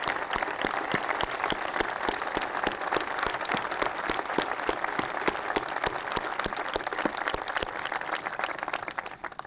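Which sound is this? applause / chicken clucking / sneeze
applause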